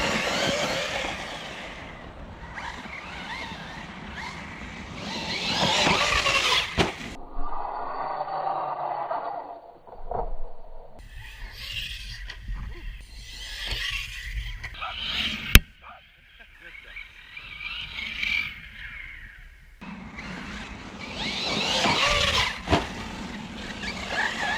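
An Arrma Notorious 6s RC car tears around in bursts, its electric drive whining and surging loud and close between quieter stretches, with a sharp knock partway through.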